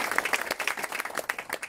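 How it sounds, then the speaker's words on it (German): Audience applause at an evening presentation about e-fuels, a dense, steady patter of many hands clapping throughout the short stretch at moderate level. "Absolut, ein Applaus."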